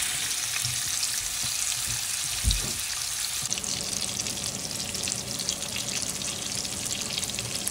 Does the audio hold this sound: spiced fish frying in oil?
yes